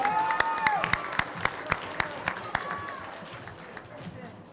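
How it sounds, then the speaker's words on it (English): Applause at a school quarterly awards assembly honoring undefeated 8th, 6th and 7th grade girls basketball champions, scattered claps over crowd noise and a voice, fading toward the end. "with just one final applause for our 8th grade and our 6th and 7th grade girls basketball undefeated champions"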